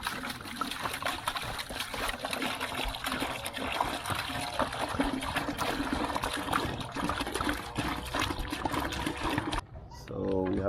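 Water pours steadily into a container while dishwashing soap is being made at home, a continuous splashing trickle close by that stops abruptly near the end.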